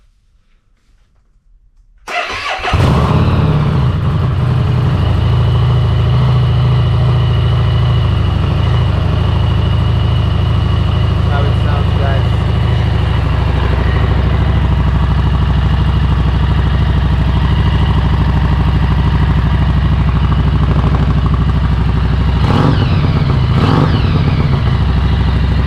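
An engine cranks and catches after about two seconds of near silence, then settles into a loud, steady, rumbling idle that runs unbroken to the end, with a brief rev or clatter near the close.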